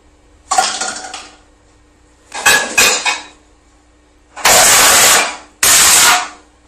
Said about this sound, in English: Initially, you can hear some things getting hit violently coming from the other side of the camera.